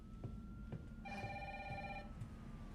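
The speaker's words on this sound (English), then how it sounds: "Let's answer this phone." A telephone in the Resident Evil 3 Remake video game rings once with a bright electronic bell tone lasting about a second, set over a low steady ambient hum and a few soft thuds.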